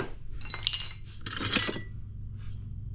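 Metal hand tools such as a chisel, wrench and pry bar clink and clatter against each other in two short bursts while being sorted through a pile of free tools, followed by quiet.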